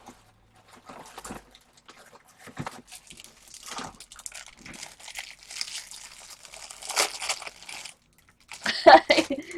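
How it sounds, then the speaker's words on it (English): Tape crinkles and crackles in scattered bursts as a roll is switched, close and fairly quiet, with a louder rustle near the end. "I have to switch my tape."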